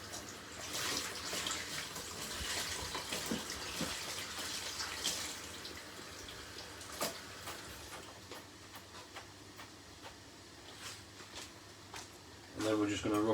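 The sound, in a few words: rinsing fresh herbs under running tap water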